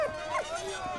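A dog in the war video game Valiant Hearts gives short yips and whimpering barks, close and fairly quiet, with someone talking over it.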